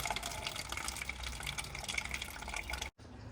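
Water drained from a Toyota car's cooling system pours steadily into a container with a continuous splashing rush, close and fairly quiet, then cuts off briefly near the end.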